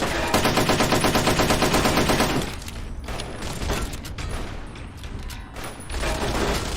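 An automated turret in Fallout: New Vegas fires a long machine-gun burst of rapid, evenly spaced shots, loud and close, then keeps up a rougher, more ragged stream of gunfire mixed with clanking mechanical noise.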